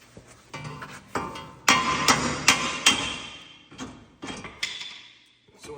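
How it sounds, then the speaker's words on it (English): Sharp metallic hammer strikes on a ball joint of a 2006 Ford F250 ring out, first a few light taps, then a run of harder blows, and a last group of lighter taps, close and loud. "I'm gonna tap that down with a hammer"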